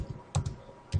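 A few sharp keystrokes on a computer keyboard, close and quiet, three or four clicks spaced irregularly within a second.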